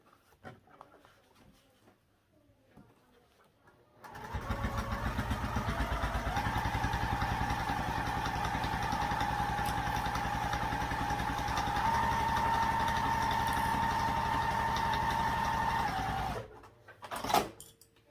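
A sewing machine top stitches a seam on a fabric project, running steadily for about twelve seconds with a continuous mechanical hum and rapid needle rhythm, starting and stopping abruptly after quiet moments.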